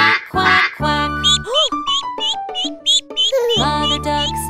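Sung nursery rhyme about little ducks with a childlike voice imitating a mother duck's quacking in a quick run of three quacks over bright, bouncy musical accompaniment.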